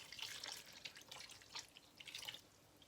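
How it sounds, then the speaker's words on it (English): Water splashes and trickles into a pot of chopped potatoes, soft intermittent pouring and dripping sounds close by and fairly quiet, with no speech. "And then I'm just gonna top it up with water"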